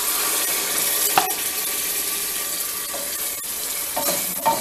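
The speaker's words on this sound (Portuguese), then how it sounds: "Vou deixar dar uma refogada aqui no molho." Onion and tomato sauce sautéing in a pan, giving a steady close sizzle and hiss with a few sharp clinks and scrapes from stirring, and no talking.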